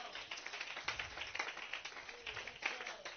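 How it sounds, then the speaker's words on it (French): Audience clapping at a French-language church service, a few scattered claps rising and falling in soft, uneven bursts that sound thin and somewhat distant. "Donnez-lui une main d'acclamation."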